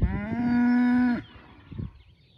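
A cow lets out one loud, long, close moo that holds steady for about a second before cutting off, leaving quieter rustling and faint farm background.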